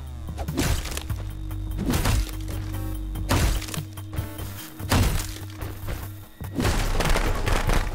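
Fireworks in the horror video game Friday the 13th The Game pop and crackle in repeated loud booming bursts over a dense rumbling bed of game sound.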